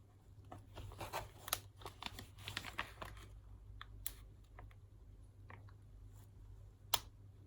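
Scissors cutting through one side of a plastic page protector during a scrapbooking flap technique, a run of crisp snips and crinkles that thin out to a few sharp clicks, close and quiet.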